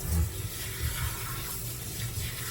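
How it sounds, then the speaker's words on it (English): Warm water runs from a tap in a steady, soft rush, close and unbroken, with no talk over it. "let me give it a shot of some warm water, not hot water,"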